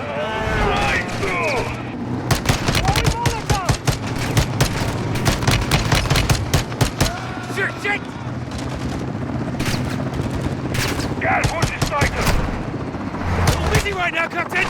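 Heavy video game battle gunfire, with rapid bursts of shots, machine-gun rattle and booming blasts throughout, often under excited speech and shouting.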